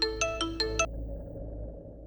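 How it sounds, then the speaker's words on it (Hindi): A phone ringtone plays at midnight as a quick run of five bright chiming notes, fairly loud and close, then stops and leaves a low hum of room noise. "आधी रात में किसका फोन आ गया?"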